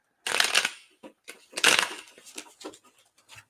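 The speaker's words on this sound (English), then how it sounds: "Give it one more shuffle here." Two bursts of crisp, riffling tarot card shuffles, each followed by a few soft taps and slides of cards being squared up, close and fairly quiet.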